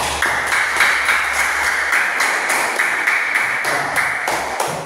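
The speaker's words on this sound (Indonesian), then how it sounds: "Kasih tepuk tangan" Classroom applause for a group of school students after their presentation, with steady, dense clapping that holds at an even level for about five seconds alongside a faint ringing tone.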